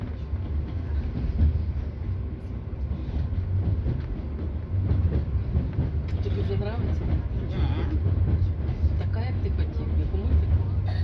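Steady rumble and rattle of an electric commuter train rolling along the tracks, with people talking over the noise throughout.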